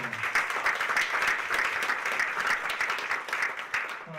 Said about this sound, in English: how about a round of applause for David Armstrong?